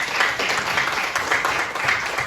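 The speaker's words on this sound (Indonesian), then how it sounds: "tepuk tangan semuanya" Students clapping together in a school classroom, a short, steady burst of applause at close range.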